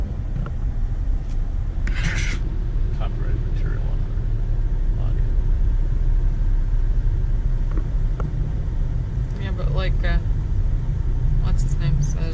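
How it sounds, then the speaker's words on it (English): A car drives through traffic in East Texas on a Louisiana road trip. A steady low road rumble and engine drone fill the cabin, with faint voices talking now and then. "If we can just get out of this traffic."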